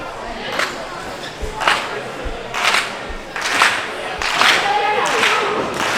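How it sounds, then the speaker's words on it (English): Wrestling crowd at a Next Up Pro show giving a slow, evenly spaced clap, with separate claps a second or so apart rising over a steady arena murmur and some voices. "Audience trying to give some life to Gabriel Kai. Doing a slow clap like we're in a romantic comedy or something."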